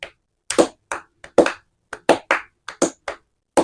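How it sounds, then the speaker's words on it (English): A few scattered, sharp hand claps in an irregular sequence, each crisp and separate with silence between, sounding like a small group or one person clapping sparsely up close. "I'm holding for applause"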